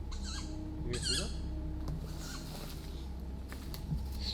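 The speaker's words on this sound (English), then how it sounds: "I've never heard owls make noise like that." Faint, scattered owl-like squawks and chirps in a forest over a quiet outdoor background, with soft rustling and patter between the calls.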